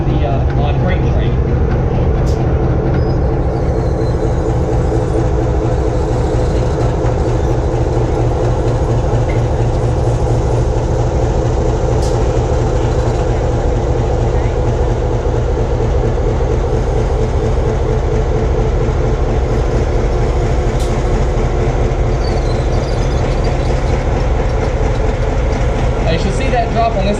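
A locomotive pulling a passenger train rumbles steadily and loudly throughout, with a continuous low engine drone and rolling rail noise, close by.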